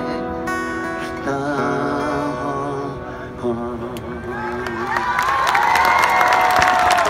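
At an outdoor festival concert, a large crowd claps and cheers, the applause swelling into loud shouts and whistles as sustained music fades underneath, dense and close throughout.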